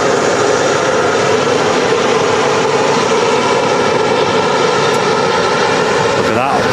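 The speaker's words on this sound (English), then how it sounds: "We got taxiing out as well. Gulf Dreamliner." A Gulf Air Boeing Dreamliner taxiing at Manchester Airport gives off a steady, loud, continuous engine roar and whine, with wind noise and no break across the whole stretch.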